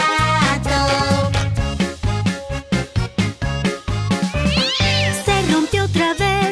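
A voice imitates a cat's meows in a bouncy children's animal song, with repeated sung mews over loud, rhythmic backing music.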